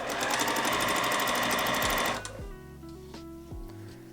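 A sewing machine stitching quilt blocks, a loud fast mechanical whirr for about two seconds, then slowing into a few short separate stitch bursts with quieter fabric handling between them.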